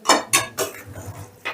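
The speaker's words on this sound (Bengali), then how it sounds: "এবার সমস্তটা বেশ ভালো করে মিশিয়ে দিচ্ছি।" A spoon scrapes and clinks against a pan while eggplant mash is mixed with fish head, four or five close sharp metallic strokes in an uneven rhythm.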